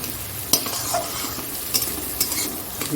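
Goat liver chorchori stirred in a hot pan, with a steady sizzle and frying hiss broken by a few sharp scrapes of the spoon against the pan, close by and with no talk.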